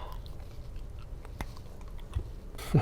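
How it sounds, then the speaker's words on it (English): Someone chewing a tough, chewy strawberry candy close to the mouth, soft wet mashing and faint bites under low background noise, ending with a louder crunch. "I can't even chew it."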